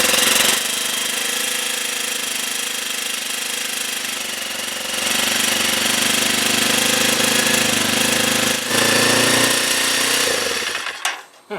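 A Kawasaki KLX 230 motorcycle engine idles steadily and loudly up close with a rough, knocking pulse, running at a high idle before cutting out near the end.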